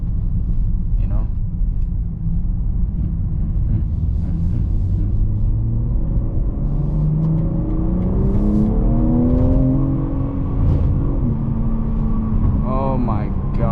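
A 2025 BMW M3 Competition accelerates on a rough road, its engine note climbing steadily in pitch through a gear, then dropping on a shift and rising again, loud and continuous from inside the cabin over constant road rumble.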